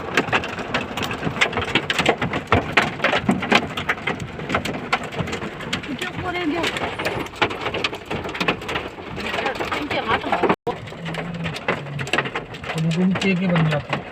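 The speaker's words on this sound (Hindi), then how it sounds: "बहुत बड़े बड़े ओले पड़ रहे हैं" Large hailstones pelt down in a roadside downpour during a hailstorm near Karauli, a dense, steady rattle of impacts that persists throughout while voices talk over it.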